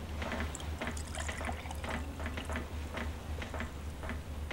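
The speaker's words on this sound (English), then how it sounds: "Let me pour myself a drink here." Liquid being poured into a glass in the Call of Cthulhu: Dark Corners of the Earth video game, a steady trickling fill over a low hum of background ambience, close and moderately quiet, with no talk.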